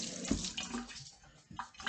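Tap water runs and splashes while a pan greasy with splattered bacon fat is washed with soap, a steady close wash broken by a few brief louder gushes.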